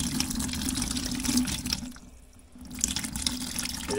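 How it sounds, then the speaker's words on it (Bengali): Water pours steadily over Raida Aqua Dry riding gloves, a close, continuous splashing stream from a tap that eases briefly midway before running strong again, with no talking. "আমি হচ্ছে এখানে জল দিচ্ছি। এই দেখো জল আটকাচ্ছে না"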